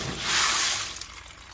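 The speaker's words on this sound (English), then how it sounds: "we're going to wash it out with some fresh water" Fresh water is sloshed through a pot of coquina clams, a bright splashing rush of water and rattling shells that peaks early, then fades into lighter dribbling.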